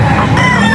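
Rooster crowing at a pet market, one loud, close, harsh call lasting under a second over a busy background.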